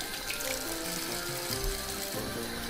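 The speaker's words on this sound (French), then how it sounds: "On ouvre le robinet." Steady stream of water running from a tap into a sink, a continuous close hiss with faint clinks underneath.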